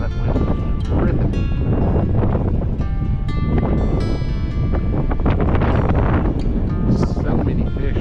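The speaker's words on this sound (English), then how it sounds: "that wind is ripping" Strong wind buffets the microphone on a riverbank along the Escatawpa River, a loud, continuous roaring rumble with gusts, while someone talks over it.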